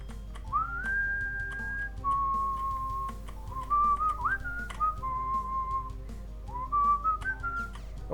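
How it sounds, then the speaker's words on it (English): A person whistles a meandering melody close to the microphone, with long held notes and short rising slides over a steady low hum. "I wonder if my mic actually picks me up when I'm whistling."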